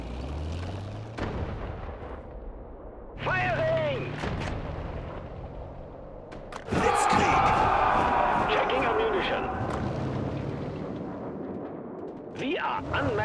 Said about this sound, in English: Prepare your cannons.